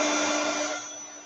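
A heat tool blowing on a wet paper page, a steady airy whoosh with a faint tonal hum that holds briefly and then eases slightly.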